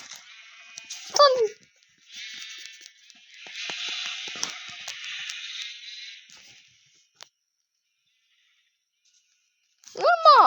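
Sheep bleat in short wavering calls, one near the start and another at the end, with a rustling, scraping noise filling the middle.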